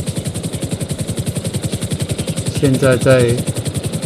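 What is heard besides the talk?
helicopter flying in GTA Online video game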